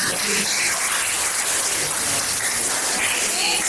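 A class of students applauds together after a mathematics lesson on polynomial division, a dense, steady wash of clapping filling the whole stretch without pause, fairly close and even in loudness.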